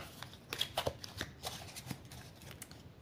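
A Starseed oracle card deck is cut and handled close by, giving a quick run of soft, crisp card clicks and flutters in an otherwise quiet room.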